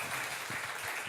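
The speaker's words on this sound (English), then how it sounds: "Round of applause." Brief burst of audience applause at a startup demo day, soft and somewhat distant, scattered clapping lasting only about a second.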